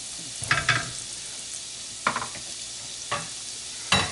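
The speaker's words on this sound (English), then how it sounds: "You can see the butter start to foam" Butter foaming in a pan with garlic and shallots, giving a steady hiss of sizzling broken by a few scraping stirs spaced out over the frying.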